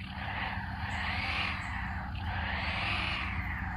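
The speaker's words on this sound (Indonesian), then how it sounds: "langsung saya kita hidupkan dulu mesinnya. Untuk suara mesinnya ini begini guys." Idling diesel engine of a Mercedes-Benz Arocs 8x4 tractor-head truck in Bus Simulator Indonesia, a steady low rumble with a higher whine that rises and falls, continuous and close with no talk.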